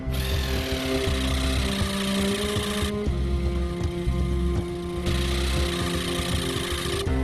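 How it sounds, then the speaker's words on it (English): A Sawzall reciprocating saw cuts through thick tire rubber tread and the steel belts inside, a loud, close, buzzing drone that holds steady, drops in pitch for a couple of seconds in the middle, then resumes. "needs the Sawzall to cut the thick rubber tread and the steel belts inside the tire"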